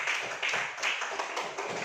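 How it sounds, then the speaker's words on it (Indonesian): Classroom applause from a primary school class, a steady patter of many small hands clapping together, close and moderately loud throughout, with faint voices mixed in. "Beri tepuk tangan untuk Elvianis."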